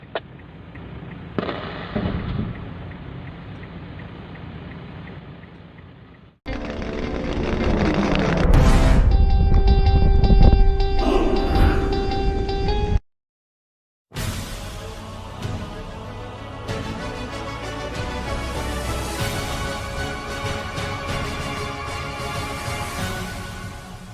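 Blasting explosions at a mining site, heavy booming bursts and rumbling blasts in several separated segments, loud and sustained with brief silence between them.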